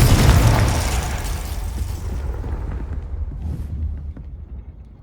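A Confringo spell blasts in a Harry Potter video game: a loud, booming fire explosion that starts at full force and rumbles away over several seconds.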